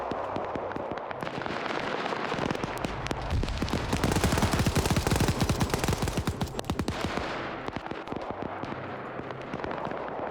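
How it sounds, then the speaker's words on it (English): Sustained suppressive gunfire in a military video game: dense overlapping automatic bursts and single shots, loud and continuous, peaking in a rapid crackling barrage before easing back to steadier firing. "they're even managing to kill themselves in their own suppressive fire"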